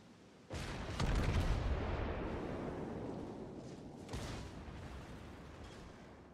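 Heavy naval guns boom in World of Warships during a match with the Izumo and Dreadnought battleships, a loud deep salvo that rolls on, followed by a second, lighter report a few seconds later.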